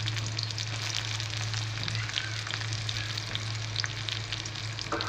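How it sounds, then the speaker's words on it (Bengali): Chopped garlic and onions fry in oil with a continuous, close sizzle, a dense crackling hiss that holds steady throughout, with a low hum underneath and no voices. "তারপর আমি এতে পেঁয়াজ কুচিগুলি দিয়ে দিচ্ছি"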